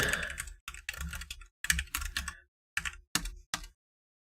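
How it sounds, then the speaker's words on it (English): Short bursts of typing on a computer keyboard, quick clusters of key clicks separated by brief pauses, close and clear with no talking. "There, you can see what I'm typing now."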